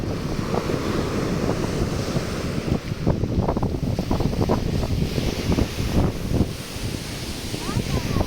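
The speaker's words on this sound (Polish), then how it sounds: "Fale, fale." Sea waves wash and break continuously at Sveti Stefan, Montenegro, with heavy wind buffeting the microphone and a few faint voices underneath.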